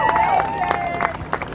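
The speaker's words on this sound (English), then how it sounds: "Ladies and gentlemen, let's get a round of applause for our chef, our presenter, and our all-about amazing Instagram model" Applause and cheering from a crowd at an outdoor vegan food festival for a cooking demo chef, with scattered claps, a whistle and voices talking over it.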